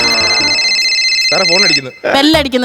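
A telephone bell rings steadily in a film scene for a couple of seconds. Voices then talk loudly over and after it.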